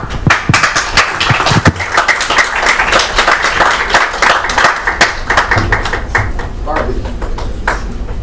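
An audience applauds at the close of an acupuncture symposium lecture on low back pain analgesia: dense clapping from many hands with sharp individual claps, sustained for several seconds, close, with a voice speaking over it.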